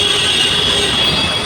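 A metro train rolling through a station, a steady loud rumble with a sustained high wheel squeal on the rails, heard up close over a short stretch.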